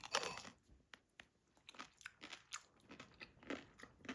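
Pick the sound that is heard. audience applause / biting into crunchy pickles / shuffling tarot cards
biting into crunchy pickles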